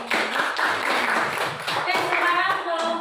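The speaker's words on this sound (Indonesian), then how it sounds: "Tepuk tangan dulu." A classroom of students claps together in a dense, steady burst of applause lasting a few seconds, close and lively, with a few voices mixed into the noise.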